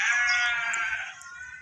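A Black Bengal goat at a goat research centre gives one long, loud, wavering bleat that fades out, heard close and on its own.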